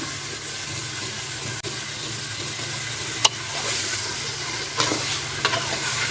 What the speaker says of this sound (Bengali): মাছগুলোকে কষাই নেব,